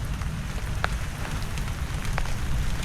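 Steady rain falling outdoors on a farm trellis, a dense continuous patter with a few louder drops, with no voices.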